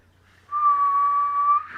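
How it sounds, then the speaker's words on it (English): A single sustained whistled note starts abruptly after a short quiet lead-in, holds steady at one pitch for about a second, then cuts off. "just pretend like you're whistling."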